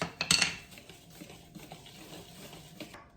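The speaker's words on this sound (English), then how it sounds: "baking soda, 2 teaspoons of salt, 2 teaspoons of allspice. I'm going to whisk that." Dry muffin ingredients, including baking soda, salt and allspice, are whisked in a bowl, with a brief burst of scraping clinks near the start followed by softer, lighter stirring at close range.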